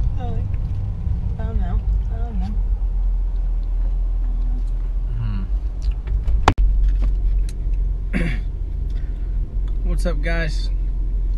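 Car interior road noise, a steady low engine and tyre rumble while driving home on the road, continuous throughout with someone talking over it and a brief sharp knock midway.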